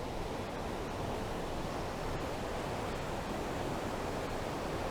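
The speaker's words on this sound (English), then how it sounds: "That water's all being forced down through this little narrow gully." Water forced through a narrow gully on the Ingleton Waterfalls Trail makes a steady, dense rushing roar that fills the clip without pause.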